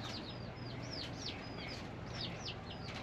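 Chickens cluck softly at a distance among repeated high bird chirps, with a steady low hum of background noise running throughout.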